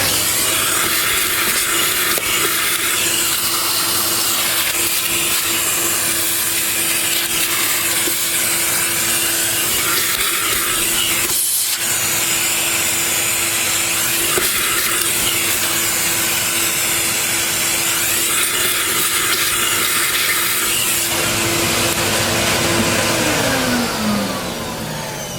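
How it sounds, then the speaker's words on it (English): A vacuum cleaner cleaning a Nilfisk Extreme filter, a loud steady motor roar with rough scraping and rubbing as the nozzle works the filter, one brief dip midway and the sound easing off at the end. "Let's see if I can use the vacuum to clean it."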